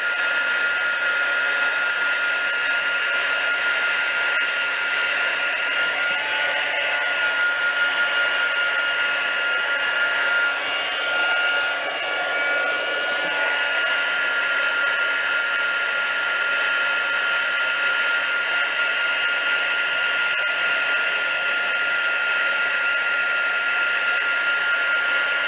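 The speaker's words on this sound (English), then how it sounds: "So with my heat gun, I'm going to generously heat this up." A heat gun warms embossing on a handmade stencil watercolour card, giving a steady, close, loud blowing hiss with an even whine that runs without a break for the whole stretch.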